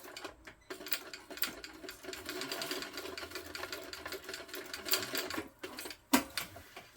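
A sewing machine back stitches the end of a short strap for a tote bag, its needle running in a steady mechanical whir with brief pauses and a sharp clunk near the end, no voices.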